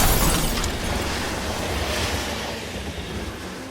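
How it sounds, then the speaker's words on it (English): A train approaches along the tracks, a loud broad rushing rumble that is strongest at the start and holds steady as it rolls on. "okay, train is coming."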